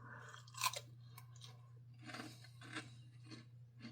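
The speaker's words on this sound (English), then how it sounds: "Nice crunch." Crunchy battered fish from a fish and chips shop in Felling, Gateshead is chewed close to the mic, with a sharp crunch early on followed by softer, repeated crunchy bites and no talk.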